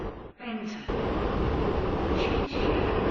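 A passenger train in the Stepford County Railway video game runs with a steady, loud broadband rumble, interrupted by a brief dip near the start, while an onboard announcement voice speaks over the noise.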